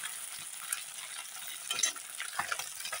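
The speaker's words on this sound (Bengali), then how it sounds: "এই মাছগুলো বেশি না ভাজলেও হয়, অল্প হালকা ভেজে নিলে হয়।" Small borolī river fish fry lightly in hot oil, a continuous soft crackling sizzle with a few faint stirring clicks, close but quiet, no voices.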